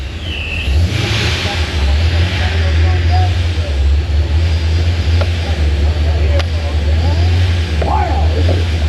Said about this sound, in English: They're letting out all the horsepower.